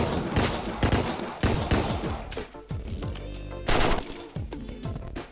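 Gunfire in the video game Deadbolt rattles in rapid, loud bursts of overlapping shots, dense and punchy, running continuously with brief gaps between volleys.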